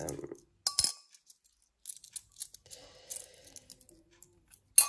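Coins dropped into an empty jar, a few sharp metallic clinks and scattered small taps with quiet gaps between them, close and sparse, no talk.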